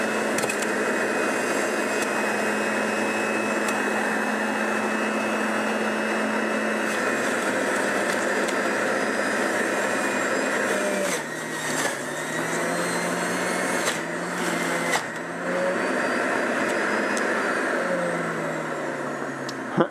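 A Breville BJE510XL centrifugal juicer runs at speed setting 5, a loud, steady motor whine and whir held for about twenty seconds, with brief dips and shifts in pitch midway as produce is pushed through.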